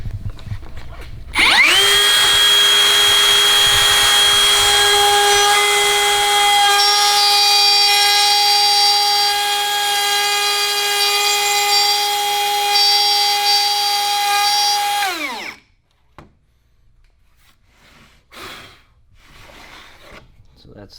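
Metabo HPT cordless plunge saw spins up and cuts steadily for about fourteen seconds with a loud, even whine, then winds down; people talk briefly afterward.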